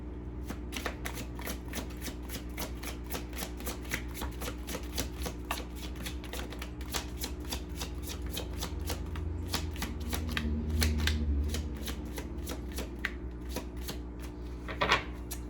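Tarot cards being shuffled by hand in a repeated riffling flutter of rapid soft slaps, steady and close, with a louder snap near the end and no speech.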